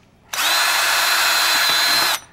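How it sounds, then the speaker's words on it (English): A power drill bores through a pair of inexpensive canvas boards held back to back: one steady, high, whining burst of nearly two seconds, close and loud, starting and stopping abruptly with a slight dip in pitch near the end. "Put them back to back. And then drill a couple holes on one side."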